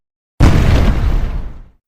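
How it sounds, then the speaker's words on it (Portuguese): A single loud explosion sound effect erupts suddenly after a short silence, then rumbles and fades over about a second and a half, heard alone with no voices. "E então, uma explosão."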